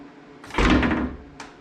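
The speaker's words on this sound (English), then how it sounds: "Now we're going to close the door. Close it gently" A car door on a vehicle with its window and regulator being serviced is pushed shut gently, giving one soft, close thud with a brief rattle, followed by a small second knock.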